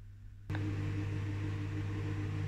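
A microwave oven heating a frozen beef burrito bowl switches on with a click and then gives a steady, low hum with a fan whir, fairly quiet and constant, with no talking.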